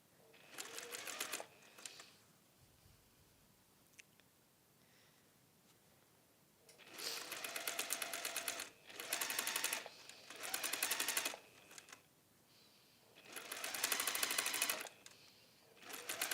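A sewing machine sewing down both sides of a cowl whirs in several loud bursts of rapid stitching, separated by quiet pauses, close up with no talk over it.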